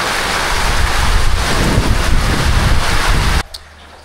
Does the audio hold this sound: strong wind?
yes